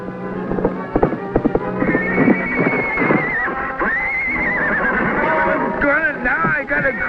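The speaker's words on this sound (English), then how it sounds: "Now I got a crazy horse after me, too." Horse neighing and galloping, with hoof clip-clops and thuds at the start followed by long, shrill, wavering whinnies, loud and close, while someone shouts over the commotion.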